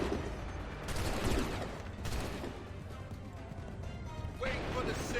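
A musket volley in Assassin's Creed 3 rolls out as a dense, crackling burst of gunfire mixed with battlefield noise and voices.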